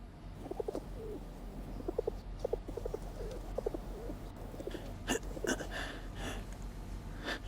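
A bird, tagged as a pigeon or dove, gives a run of soft repeated cooing phrases in a steady rhythm over low background noise, with a few sharper clicks and rustles near the end.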